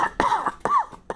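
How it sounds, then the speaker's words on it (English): Three or four harsh, throaty coughs come in quick succession, close and loud, with no talking. "Excuse me, I need to cough."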